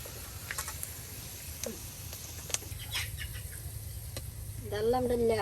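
Potatoes frying with dried red chillies in a pan, cooked on a rural village stove, are stirred through a steady close sizzle with scraping strokes, and a bird-like call or voice rises near the end.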